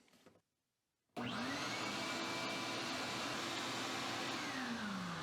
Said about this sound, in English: And now time to clean up with the shop vac.